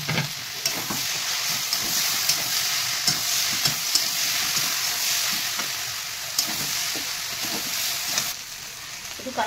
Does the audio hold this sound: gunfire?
no